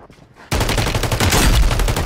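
Gunfire erupts in Call of Duty MW3 after a brief quiet moment, a loud, rapid run of close shots that keeps going to the end.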